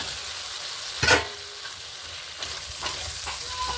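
A fried spice paste sizzles as fried papaya and potato go into the pan, with a sharp clatter, then a low, steady frying hiss and light stirring.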